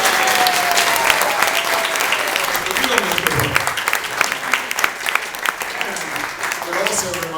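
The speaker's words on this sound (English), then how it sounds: "Indeed, a round of applause for Mr. Brooks." Audience applause after a radio play performance honoring the author Walter R. Brooks, a dense wash of clapping throughout with a few louder individual claps near the end and faint voices underneath.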